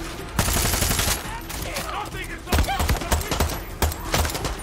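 Rifle gunfire in the video game Far Cry 6, with sharp shots and short automatic bursts, loud and close, mixed with game sounds and some talk.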